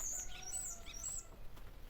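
A starling sings from a branch on a sunny day, giving a quick series of bright whistles and chirps. The song is faint and carries from a short distance, with no voices over it.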